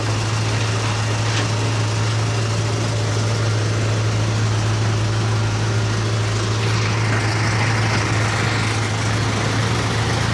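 A tractor straining to pull a stuck cement truck, its heavy engine droning in a loud, continuous low rumble throughout with no voices.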